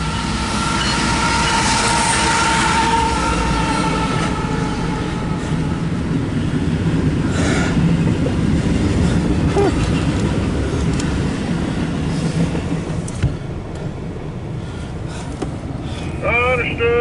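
A CSX Q135 intermodal freight train rolls past westbound behind lead locomotive 3172, a loud continuous rumble of wagons with rail clatter and brief wheel squeal, while radio voices talk over it throughout.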